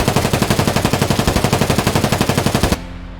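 A rifle fires fully automatic in Escape from Tarkov, a rapid, even burst of loud close shots that stops abruptly, leaving a faint tail of ambience.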